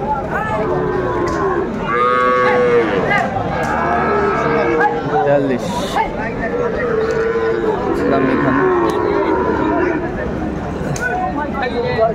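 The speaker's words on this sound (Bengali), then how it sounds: "সুন্দর সুন্দর মানের যে ষাঁড় গরুগুলো বেচা কেনা হচ্ছে" Sahiwal bulls and cattle at a crowded livestock market moo repeatedly, several long calls near and far over a busy hubbub of people talking.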